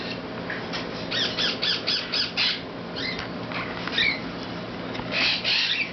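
Young Cape parrot chicks, hand-fed babies, give repeated raspy squawks in quick bursts, close and fairly loud over a steady background noise.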